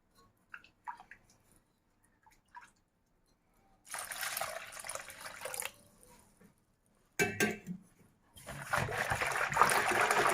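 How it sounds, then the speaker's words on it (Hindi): Water is poured into a bowl of gram flour mixture in two splashy bursts separated by quiet pauses, with a few soft clinks beforehand. "अब इसमें हम पानी ऐड करेंगे।"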